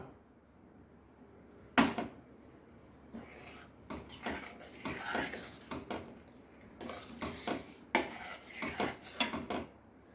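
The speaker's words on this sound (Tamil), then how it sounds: "குக்கர் திறக்கலாமா?" A pressure cooker holding freshly cooked knol khol kurma is opened, with a string of close metallic clanks, scrapes and rattles of the lid and pot arriving in irregular bursts, no talking.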